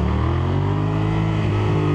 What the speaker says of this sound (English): yeah, noisy exhaust.